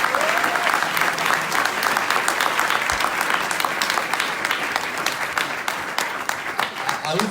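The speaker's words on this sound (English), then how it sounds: "we get applause for him as well" Sustained, loud applause from the audience at an open source tech meetup, many hands clapping continuously in a full, even roar for the whole stretch.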